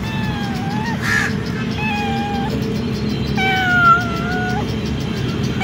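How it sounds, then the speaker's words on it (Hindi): A cute cat with a docked tail, out in Central Park, meows several times in drawn-out, rising and falling calls over a steady low rumble of outdoor background noise. "ये है बहुत ही प्यारी बिल्ली है"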